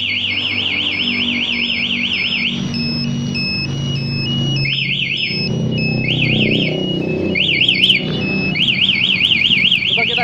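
A Yamaha MT-25 motorcycle's two-way alarm blares with loud warbling chirp bursts, breaking off and restarting several times, while steady engine-like rumble and some background noise continue beneath.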